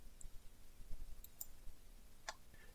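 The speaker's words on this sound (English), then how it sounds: "you need to click Charts" A computer mouse clicked while working in SPSS statistics software, a few faint, sharp isolated clicks spaced apart over a quiet room hiss.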